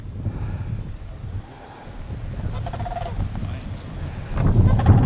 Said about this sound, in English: We hear some turkeys right now.